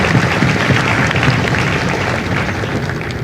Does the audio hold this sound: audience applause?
yes